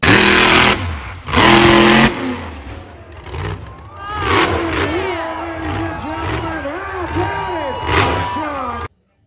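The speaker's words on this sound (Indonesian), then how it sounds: "Lihat teman-teman, ada mobil truk monster." A red monster truck, probably a toy, gives a loud engine roar with bursts and repeated revving swells, and a person talks over it before it cuts off abruptly.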